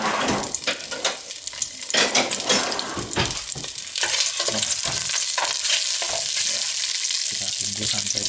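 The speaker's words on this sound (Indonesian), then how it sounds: "Bumbu yang lengkuas semuanya ini digodok sedikit sampai dia wangi" Galangal and spice paste for opor ayam sautéing in hot oil, a steady sizzle broken by repeated scraping strokes of a spatula stirring the pan, close and fairly loud.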